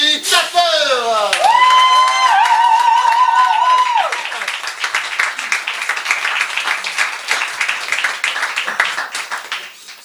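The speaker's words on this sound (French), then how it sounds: "Messieurs, dames, que de l'applaudissement pour Jimmy Tapper." Applause for comedian Jimmy Tapper at a show aboard the boat El Alamein opens with loud voiced whoops and a sustained cheering cry, then settles into brisk, close clapping from a small crowd.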